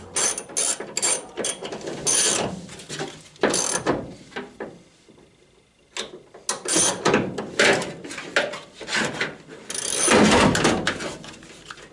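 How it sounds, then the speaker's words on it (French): Ratchet wrench tightening the nuts and bolts of rear seat belt anchors on a Citroën Traction 11B, bursts of quick metallic clicking strokes, close and moderately loud, with short pauses between runs. "Maintenant que les écrous sont pris, les boulons sont pris, je leur mets un petit coup de serrage."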